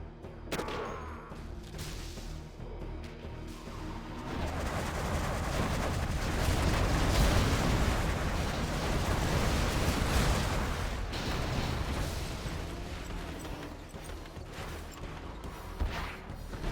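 In a strategy video game battle involving GLA forces, bombs explode in a dense, sustained barrage. The rumbling blasts swell to a loud peak in the middle, then slowly ease off, and no voices are heard.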